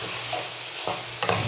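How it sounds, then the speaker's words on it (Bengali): Egg curry being stirred in a pan after salt goes in, soft sizzling underneath two short scraping strokes of a spoon, close and quiet. "লবণ দিয়ে নাড়তে হবে"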